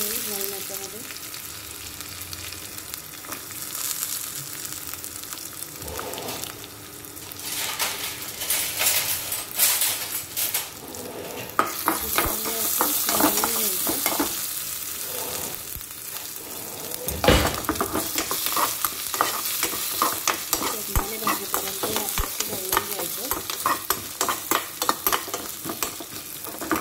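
Peanuts roasting with coriander and ginger in a pan for crisp samosas, a steady dry sizzle broken by repeated scraping stirs and light metallic clinks of a utensil against the pan, close and continuous.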